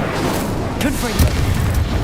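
Confringo explosive spell cast in Hogwarts Legacy, heard as a deep booming blast and burst amid busy game combat noise, with a voice present.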